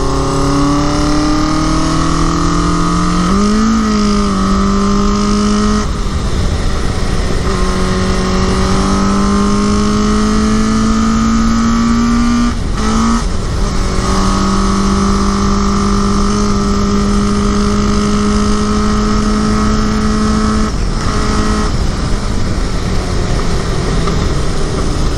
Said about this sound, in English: the bike's running way better than I thought